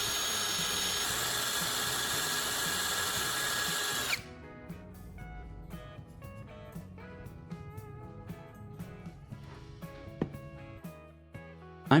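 A power drill bores a hole through a metal part for a knife sharpener, starting with a loud steady whine for four seconds, then quieter intermittent grinding and clicks.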